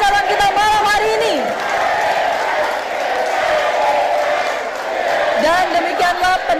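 Audience applause and cheering for three candidate pairs at the close of the 2024 Cimahi city public election debate, a sustained loud crowd wash with whoops, while a host's voice carries over it.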